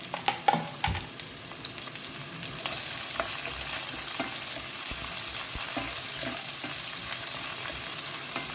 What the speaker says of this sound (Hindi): और अब प्याज को ना 1-2 मिनट के लिए अच्छे से भून लेते हैं।